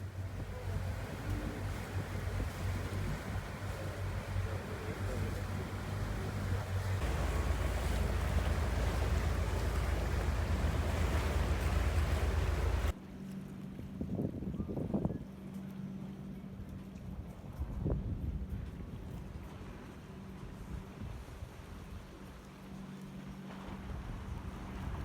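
A tour boat cruises along the Mallorca coastline, engine rumble and wind buffeting loud at first, then dropping to quieter water wash and lapping waves with occasional splashes.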